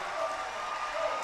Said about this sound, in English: the home crowd is going crazy